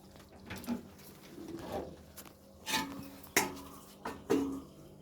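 Pots and pans are gathered up for washing, knocking and clattering together in a handful of distinct metallic clanks, some sharp and close, spaced irregularly over a quiet background.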